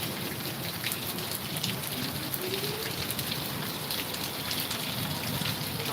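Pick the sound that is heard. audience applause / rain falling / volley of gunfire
rain falling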